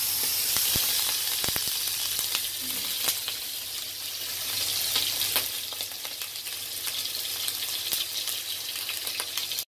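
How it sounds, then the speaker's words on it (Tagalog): Steady hiss and sizzle of salmon frying in hot oil with ginger, with occasional crackles and utensil clinks. "Prito natin ang ating salmon fish."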